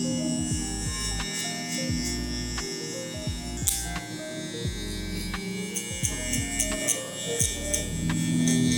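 Electric hair clippers fitted with a 1.5 guard buzz steadily through a haircut, a continuous close hum with small scraping accents as the blades work through hair, and no talking.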